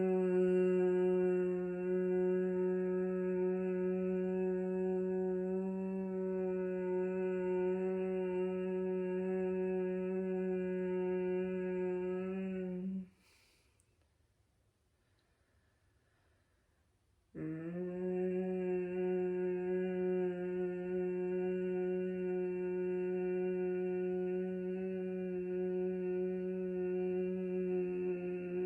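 A steady, sustained hum with rich harmonics imitates a buzzing bee, pausing once for a breath before resuming just as evenly; no talking.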